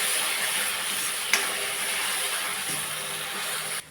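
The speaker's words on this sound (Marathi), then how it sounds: "टमाट्याची पेस्ट टाकून घ्यायची. त्याला पण थोडं परतून द्यायचं." Tomato paste sautéing in a pan for pav bhaji gives a steady, fairly loud hiss and sizzle that runs throughout, with one brief clink partway through.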